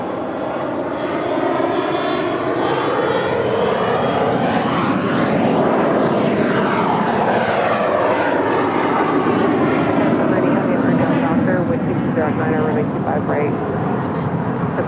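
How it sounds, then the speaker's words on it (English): A Bombardier Global Express business jet departs LAX with a loud, steady engine roar whose pitch sweeps as it passes, and voices are heard beneath it throughout. "That Bombardier Global Express is departing to Sheboygan."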